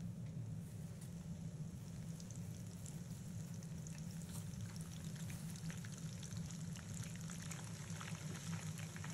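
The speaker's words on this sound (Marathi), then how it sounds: "म्हणजे तेलामध्ये डीप फ्राय करून घ्यायचं." Mushrooms coated in flour deep fry in hot oil, giving a steady, dense bubbling sizzle that stays even throughout, faint and without speech.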